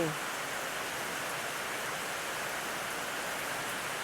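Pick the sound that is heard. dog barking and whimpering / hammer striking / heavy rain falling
heavy rain falling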